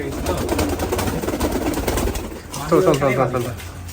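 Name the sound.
pair of Rajshahi Giribaz pigeons cooing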